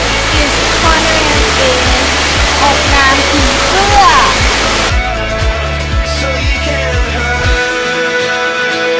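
Erawan Waterfall in Thailand roars as a loud, steady rush of falling water, constant and close throughout, with a brief rhythmic low thumping underneath.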